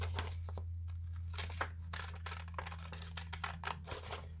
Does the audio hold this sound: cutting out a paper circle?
yes